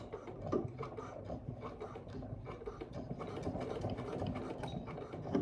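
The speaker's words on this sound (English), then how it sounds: "And then I'm going to do a reverse stitch." Sewing machine running a reverse stitch on a custom dog collar, a steady fast mechanical chatter of needle and gears, fairly quiet and continuous with no talk.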